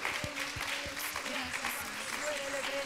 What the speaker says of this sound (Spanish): dale un aplauso a Dios